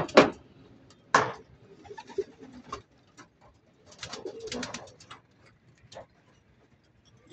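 A racing pigeon back home after a flight from Bongabong, Mindoro, makes a few short soft coos and calls, close by, spaced out with quiet gaps between them.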